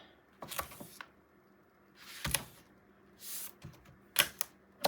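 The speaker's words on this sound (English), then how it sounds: "I need to put tape on mine real quick" Strips of tape are pulled and torn off for the pages of a 9 x 9 Ciao Bella Celestial mini album, making several short, close, crackly rips and clicks in a quiet room without talk.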